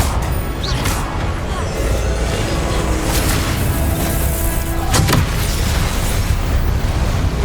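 A Confringo fire spell goes off in the Hogwarts Legacy video game: loud, dense booming blasts and crashes over constant broadband rumble, with several sharp impact bursts across the stretch.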